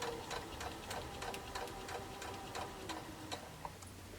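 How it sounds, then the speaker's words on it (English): A sewing machine stitches a four-patch quilt block, its needle ticking in a rapid, even rhythm close by, fairly quiet and steady with no talk. "And I can sew all the way down."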